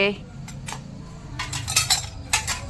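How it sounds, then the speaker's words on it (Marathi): A metal spoon drops among cooking pots and vessels, giving a few bright clinks and a rattle of cutlery against the pans, with faint household sounds around it. "चमचा पडलाय बघ पातेल्याखाली चमचा आहे"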